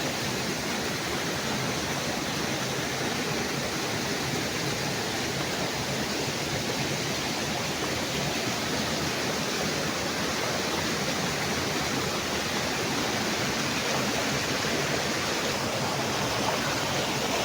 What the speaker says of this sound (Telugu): అదే వాటర్ ఫాల్స్ ఉన్నది